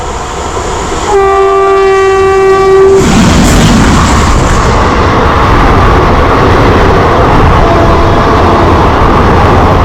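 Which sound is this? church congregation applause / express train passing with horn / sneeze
express train passing with horn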